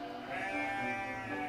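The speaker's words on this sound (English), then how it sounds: "Come on, sheep!" A sheep bleats in an animated cartoon set on a hillside pasture, one drawn-out wavering call, close and clear, with no talking over it.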